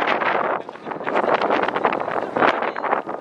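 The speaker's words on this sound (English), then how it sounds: "Hair's blowing in the wind." Strong wind gusts roar across the microphone outdoors near Edinburgh Castle in Scotland, a loud, steady buffeting rush with uneven swells throughout, with no talk.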